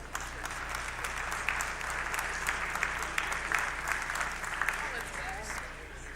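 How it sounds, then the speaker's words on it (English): Steady, sustained applause from a crowd at a school fall sports awards ceremony, dense even clapping filling the room without pause. "if we can have a round of applause"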